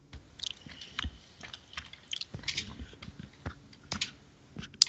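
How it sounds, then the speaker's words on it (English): Close-miked chewing and crunching on a Skype call, with irregular soft bites and clicks scattered through the whole stretch, fairly near and alone without talk. "is that you chewing"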